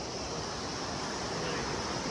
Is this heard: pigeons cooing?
no